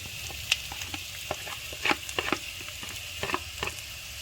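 Onions just added to a hot pan for mutton curry with cardamom, frying with a soft, fairly quiet sizzle and scattered crackles and spits, a few louder pops near the middle.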